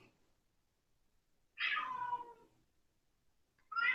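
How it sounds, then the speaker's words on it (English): A domestic cat meows loudly and close by, one long drawn-out call followed by the start of a second near the end, over an otherwise quiet indoor background. "my cat is being very vocal"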